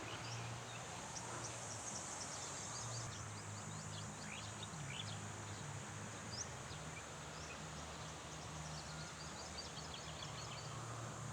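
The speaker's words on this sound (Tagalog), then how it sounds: "Tanging huni lang po ng ibon yung maririnig nyo dito." Birds chirping and calling faintly near clear blue-green water beneath mountains, scattered short tweets over a steady low hum and background wash throughout.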